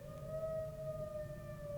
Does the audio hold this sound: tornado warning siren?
yes